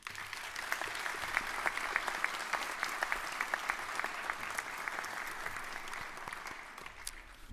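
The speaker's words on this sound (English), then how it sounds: "give a short round of applause to the support network that helped you get where you are" At a commencement ceremony, an audience gives a steady round of applause for the parents and support network, the many-handed clapping fairly distant and even throughout, with a few sharper individual claps standing out.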